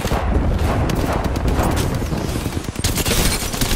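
Dense, rapid gunfire fills a firefight in the Apex Legends video game, with continuous overlapping shots and bursts at high level and no pauses.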